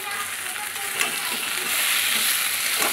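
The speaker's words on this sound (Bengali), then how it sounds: "পোস্তটা দিয়ে শুধু এখন নাড়তে হবে।" Onions and poppy seed paste, seasoned with salt and turmeric, sizzle steadily in a pan while being stirred, with a continuous close frying hiss broken by occasional scrapes of the spoon.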